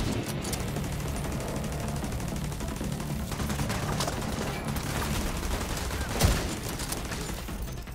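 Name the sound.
turret gunfire in video game The Division 2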